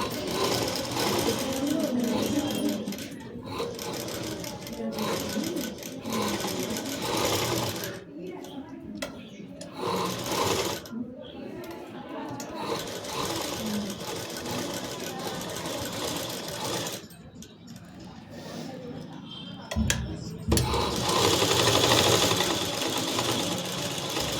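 An electric sewing machine stitches buckram cloth for a blouse neckline in a tailoring lesson. It whirs in repeated bursts with short pauses, and someone talks between and over the runs.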